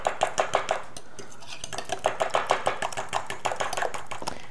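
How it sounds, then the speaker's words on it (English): Wet waffle batter ingredients beaten together in a bowl with a whisk or fork, a fast rhythmic run of close, bright clicks and taps against the bowl with a brief pause partway through, no talking. "you wanna beat this up till it's all nicely incorporated"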